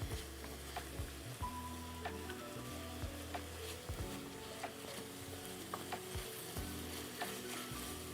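Meat sizzles steadily in a hot pan during Turkish home cooking, a continuous crackling fry with occasional stirring clatter, close and moderately loud, with no talking.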